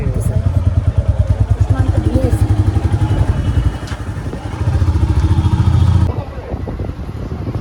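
A motorcycle engine chugs steadily with a rapid, pulsing rhythm as it rides along, loud and close, with road noise and a brief voice underneath.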